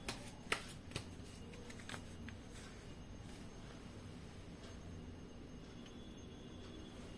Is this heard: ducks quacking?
no